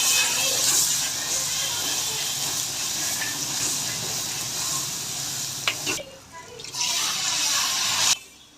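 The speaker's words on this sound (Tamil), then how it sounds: "தண்ணி சேர்த்தாச்சு." Water poured into a pan of ayala fish curry masala, with loud steady hissing and sizzling from up close that cuts out abruptly near the end and briefly returns.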